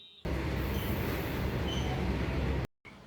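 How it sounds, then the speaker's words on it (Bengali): A train pulling into Rampurhat station in West Bengal, a loud close rolling rumble of wheels and carriages that stops abruptly, followed by quieter station ambience. "ট্রেন কুড়ি মিনিট লেটে ঢুকলো রামপুরহাট স্টেশন"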